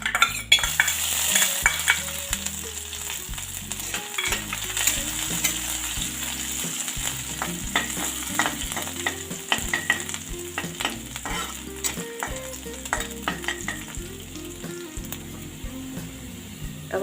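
Garlic cloves sizzle in hot oil as a utensil stirs and scrapes the pan with steady clinks, close and continuous, no voices.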